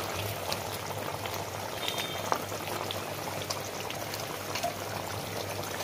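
Hilsa and eggplant curry simmering in a pan, a steady, moderately loud bubbling with faint pops and trickles throughout.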